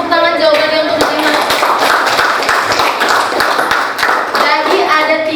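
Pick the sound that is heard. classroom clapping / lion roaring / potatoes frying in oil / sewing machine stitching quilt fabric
classroom clapping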